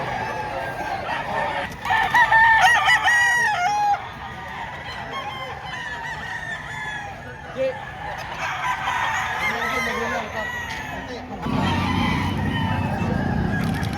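A rooster crows loudly nearby at a chicken market in Padre Garcia, Batangas, with other chickens clucking and general yard noise continuing throughout.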